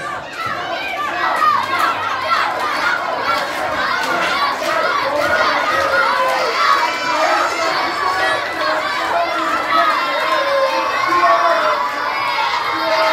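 A crowd at a heavyweight event shouts and cheers without letup, high excited voices overlapping in a dense, loud wall of noise.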